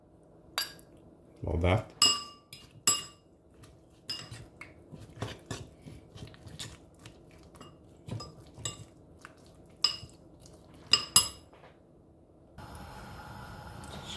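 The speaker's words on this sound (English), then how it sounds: "So I'm going to use half a egg in this, just give it a bit of beat." Half an egg beaten in a bowl for beetroot rice, with a fork or utensil clinking against the bowl in scattered taps and scrapes, close and fairly quiet, with a brief spoken remark near the end.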